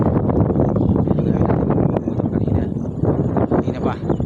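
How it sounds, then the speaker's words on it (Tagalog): Strong wind at Sitio Baag View Deck in Tarlac buffets the microphone in steady low rumbling gusts, with people talking over it throughout. "Dito lakas ang hangin."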